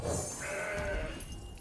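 A mountain goat bleats in the Legends of Runeterra card game, a loud, drawn-out wavering cry heard alone, close and clear.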